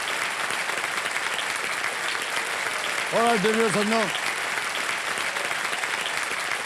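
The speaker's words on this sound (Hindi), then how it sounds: "तालियां बज जाए जोरों से नमिश के लिए।" Studio audience applause rolls on steadily for a young quiz show contestant, an eighth-grade student, while someone speaks briefly over it midway and a short musical sting sounds.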